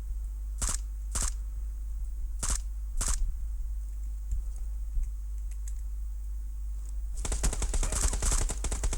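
Gunfire in the PUBG Mobile video game: several separate loud shots early on, then a dense rapid burst of automatic fire near the end, with no talking.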